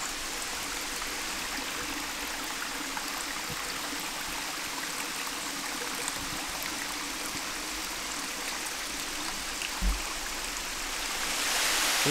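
A small stream runs over rocks beneath ferns and flowers near a cave, a soft, steady trickling and burbling at close range, fairly quiet throughout with a brief thump near the end.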